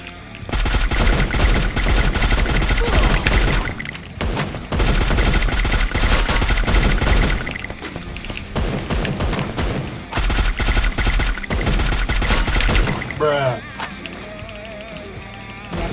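Loud bursts of automatic gunfire from the Free Fire mobile battle game, including a FAMAS rifle, come in three long sustained volleys separated by brief pauses, with a short chirping sound effect near the end.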